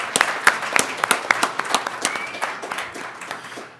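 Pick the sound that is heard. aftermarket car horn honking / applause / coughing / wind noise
applause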